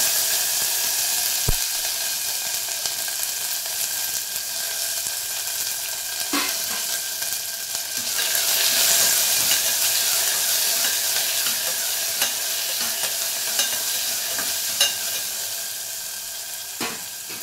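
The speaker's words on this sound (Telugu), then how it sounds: "ఇప్పుడు ఆనియన్, కొత్తిమీర, కరివేపాకు వేస్తున్నాను" Onion, coriander and curry leaves sizzle with fried mustard seeds in hot oil, a dense continuous frying hiss. A few sharp clinks of a utensil come through it, and no one talks.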